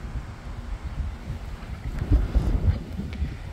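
Strong wind buffets the microphone during windsurfing at sea, a continuous low roar with gusty swells and faint water noise, no voices.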